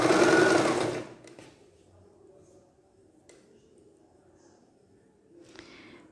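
A sewing machine stitches a seam on a children's bomber jacket in one loud, close burst of about a second, then stops, leaving faint rustling and small handling sounds.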